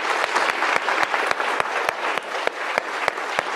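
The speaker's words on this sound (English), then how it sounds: "if you can join me in a big round of applause for Solitaire for an incredible corporation" Audience applause fills a conference hall after a keynote at a communications event, a dense, steady run of many hands clapping at close range with sharp individual claps standing out, no voices over it.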